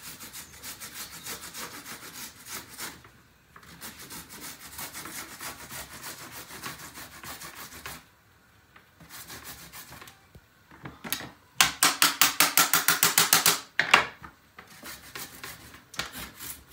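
Fresh ginger root has its peel scraped off, producing rhythmic, rasping strokes in repeated bursts with short pauses, close and fairly loud, with no talking.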